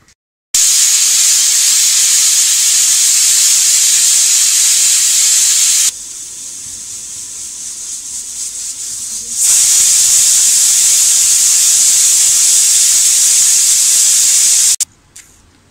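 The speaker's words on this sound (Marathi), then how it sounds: "आता आपण झाकण लावूया आणि फुल गॅसवर आपल्याला 2 शिट्या द्यायच्या आहेत." A lidded pressure cooker on full gas hisses loudly and steadily with escaping steam. The hiss drops lower for a few seconds midway, then surges back to full strength before cutting off.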